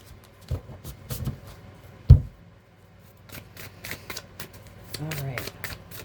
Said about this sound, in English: I'm going to give this deck a good shuffle.